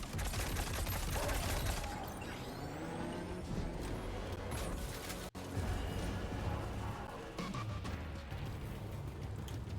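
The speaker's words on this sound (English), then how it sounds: "Near gunshots." Gunfire rings out at close range in the Death Stranding video game, a dense, continuous barrage of shots and blasts that runs almost the entire time with only a brief gap midway.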